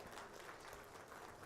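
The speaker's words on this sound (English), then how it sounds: "A big round of applause for this beautiful session." An audience at a maritime summit panel session applauds, a dense, steady clapping heard faintly from a distance, filling the whole brief moment.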